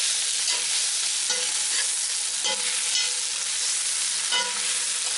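Onions fry in a pan until partly caramelized, with a steady hissing sizzle throughout and occasional utensil scrapes and taps from stirring, close and fairly loud.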